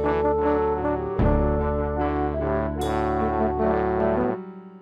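Church organ playing a hymn-style rhythm pattern with trumpet and trombone voices added, sustained chords and a steady accompaniment loud and close, alone with no talking, fading at the end.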